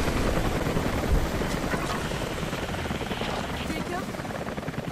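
A helicopter in the video game Rise of the Tomb Raider keeps up a loud, dense rotor roar and wash that fills the whole stretch, steady and close, with faint higher whines drifting over it.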